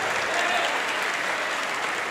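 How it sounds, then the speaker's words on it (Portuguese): A church congregation applauds in sustained, dense clapping, continuous and fairly close throughout, with a faint crowd murmur under it. "Vamos aplaudir mais ao nome de Jesus."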